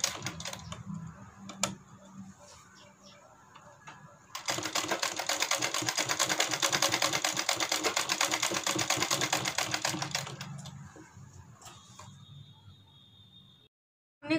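A sewing machine stitches a heart-shaped blouse neck design, starting with light handling clatter, then a steady fast rattling hum of needle strokes for about six seconds before slowing and stopping, close and alone.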